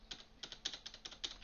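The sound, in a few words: computer keyboard space bar being pressed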